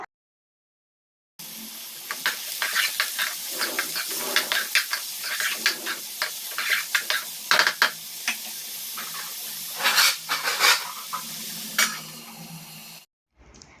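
Onions frying in oil in a pan for paneer bhurji, a steady close hiss and sizzle with crackling pops and occasional stirring swells, no voices.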